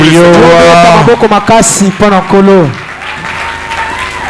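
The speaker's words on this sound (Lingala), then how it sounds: "Applaudissez très fort." A church congregation applauds loudly while voices shout and call out over the clapping for the first few seconds, then the crowd noise settles into a quieter, steady patter of applause.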